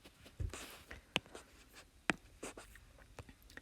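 Pen or pencil writing out a geometry proof on paper, with soft scratchy strokes and a few sharper taps, close and quiet.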